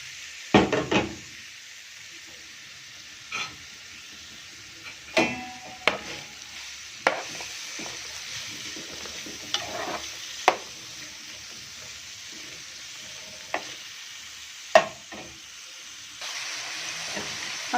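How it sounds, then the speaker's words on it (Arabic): Alexandrian-style liver frying in a pan with fat and garlic, stirred now and then, giving a steady sizzling hiss broken by scattered knocks and clinks of the utensil against the pan. "هنزل بالكبده"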